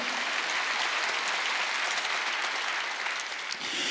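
Applause from a church congregation at a Wednesday service, a dense sustained clapping from many hands at a steady moderate level across the whole stretch, with no voices over it.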